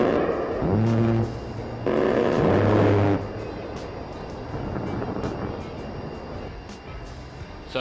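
Simulated aircraft engine in DCS World climbing toward 5,000 feet under throttle, a steady droning hum with two louder bursts early on, then a continuous lower engine tone.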